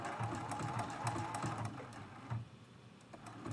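A sewing machine stitches a quilt-as-you-go block, making a few short bursts of rapid stitching with light clicks in between.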